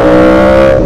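A Yamaha R1 motorcycle engine roars loud and close while being ridden, a sustained high-pitched tonal whine that holds steady for under a second, with no voices.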